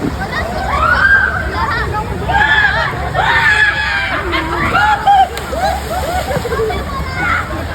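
Crowds at a water park in Biñan, Laguna, Philippines, shriek and shout over rushing, splashing water from the rides. The sound is a loud, continuous mix of screams and chatter.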